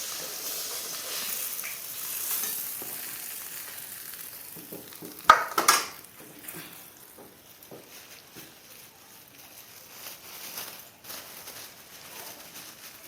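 Fish fries in hot oil in a home kitchen, giving a steady, soft sizzle and hiss. A sharp clatter of utensils cuts in once near the middle.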